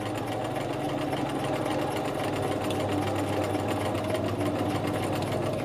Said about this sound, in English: now we're going to lift the presser foot, turn our fabric piece, and then sew back up to this square